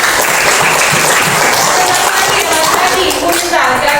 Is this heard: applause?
yes